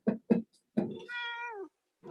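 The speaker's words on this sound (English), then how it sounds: "cat wants your attention." A domestic cat gives a few short chirps, then one clear drawn-out meow, close and distinct in a quiet room.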